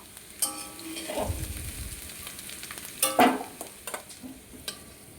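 Diced potatoes fry in oil in a pan with a soft, steady sizzle, broken by a few louder clanks and scrapes of stirring near the middle and toward the end.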